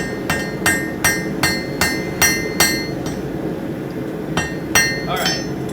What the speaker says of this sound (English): Nice gentle taps. We're just setting the welds.